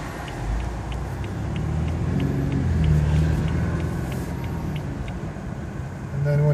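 A 2014 BMW 4 Series Convertible cruising on a sunny California road, a steady low engine and road rumble with wind noise, continuous and even with no talking.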